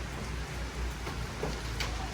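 Rain falling at night, with wind, makes a steady broadband hiss with a few sharper drip taps, even and unbroken, with no speech.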